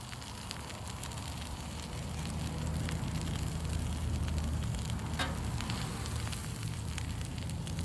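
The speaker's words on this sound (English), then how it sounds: "Then I'm going to throw a couple slices of bacon on top." Bacon slices sizzling on a Blackstone griddle, a steady crackling hiss that swells a little partway through, close and continuous with no talking.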